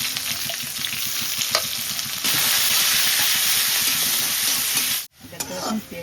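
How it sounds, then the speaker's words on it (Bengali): Onion frying in oil in a wok, a loud continuous sizzle with stirring scrapes that grows denser partway through, then cuts out abruptly for a moment before resuming. "এবং পেঁয়াজটা কড়াইতে দিয়ে দিলাম।"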